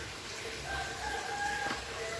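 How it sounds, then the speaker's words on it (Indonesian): A rooster crows once, a single drawn-out call rising out of quiet background noise, somewhat distant and heard alone. "Nah, berkokok lagi."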